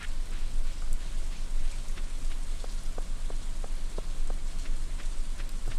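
Steady rain falls in the Stardew Valley farming game, a dense even patter with scattered light droplet ticks, alone with no talk.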